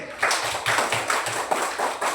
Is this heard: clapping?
yes